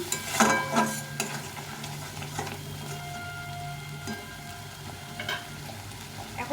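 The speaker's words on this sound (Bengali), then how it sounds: "একটু একটু ভাজা ভাজা হয়ে গেছে" Cauliflower frying in a pan for a duck-egg curry gives a continuous sizzle, broken by a few clanking stirs early on and lighter scrapes later, with no one talking.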